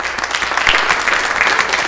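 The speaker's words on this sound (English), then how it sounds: "let's welcome our new leaders with our applause" A Lutheran church congregation applauds to welcome new leaders, a short burst of close, steady clapping from the assembled people.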